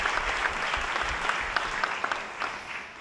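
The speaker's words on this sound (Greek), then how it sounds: "Το χειροκρότημά σας" Audience applause at the Costa Navarino Social Experience Forum, a steady, dense clapping from a full room that holds evenly for the whole stretch with no voices over it.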